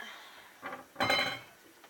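A plate is taken down in a home kitchen, giving two short ceramic clinks: a soft knock followed by a louder, ringing clatter, close by with no talking.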